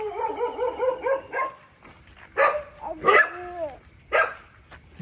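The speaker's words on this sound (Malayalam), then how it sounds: "ഈ പട്ടി ഇവിടം വരെ എത്തൂടി" A dog barks close by on a street in Kochi, India, first with a quick run of yelping barks, then three louder separate bark bursts spaced about a second apart, with faint voices in the background.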